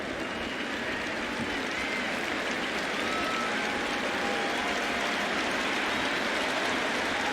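A baseball stadium crowd cheers and applauds at a Tampa Bay Rays game, a dense, steady roar of clapping and voices that holds loud and even throughout, swelling slightly toward the end.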